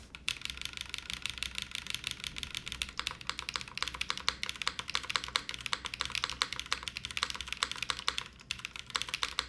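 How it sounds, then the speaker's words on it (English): Dense, continuous typing on a mechanical keyboard fitted with pre-lubed London Fog switches and an aluminum plate, a QK80 build; rapid close-up clacks run steadily throughout with no talking. "We're using London fog switches, which already came lubed."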